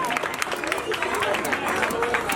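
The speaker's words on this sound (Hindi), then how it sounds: "चलिए जोरदार ताली बजाते" An audience at a Jain Paryushan festival and prize-giving ceremony claps together, a brisk run of applause with murmuring crowd noise underneath.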